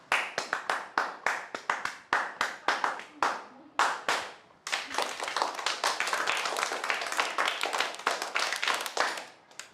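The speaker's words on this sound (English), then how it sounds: "So what are you guys doing? A clapping game?" Children play a hand-clapping game at a school, their palms slapping in a quick, steady rhythm that briefly pauses and then resumes faster and denser, loud and close with no talking over it.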